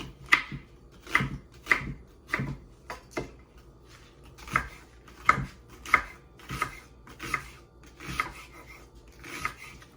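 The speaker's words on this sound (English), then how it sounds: "I'm going to cut up right here on this cutting board some onion" A knife chops onion on a cutting board in a run of crisp, close thuds, uneven in rhythm with short pauses between bursts, and no voice over it.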